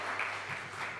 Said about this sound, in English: Can I please hear a louder applause?